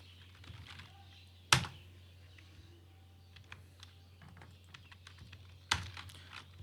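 Quiet computer keyboard typing while numbers are entered: scattered soft key taps over a low steady hum, with two sharper louder clicks standing out, no voices.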